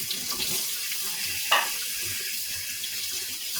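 Tap water runs steadily into a sink as a spoon is rinsed beneath it, a continuous close hiss with a brief clink of the spoon partway through.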